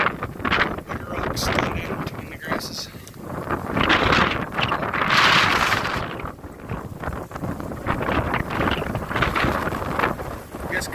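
Strong gusts buffet an open rocky mountaintop, roaring in surges and battering the microphone, rising and falling over about eleven seconds with no clear talk.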